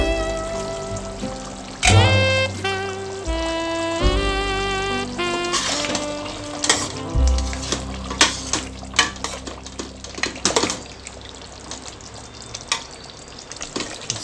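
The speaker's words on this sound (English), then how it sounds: "So the pork has been cooking for about almost 45 minutes." Pork vindaloo simmering in a pan, a Goan dish, with a soft sizzle under clattering stirring and scraping of a utensil against the pot, then sharp intermittent knocks near the close.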